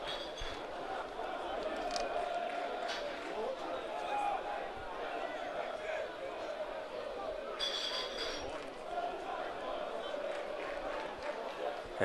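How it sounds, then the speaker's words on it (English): Melbourne Knights supporters in a football stadium keep up a steady, broad crowd roar for the whole stretch, with a brief swell of cheering around the middle, all beneath a commentator's voice. "And a vocal crowd."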